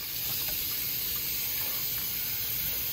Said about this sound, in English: I'm gonna wash my turkey neck with cold water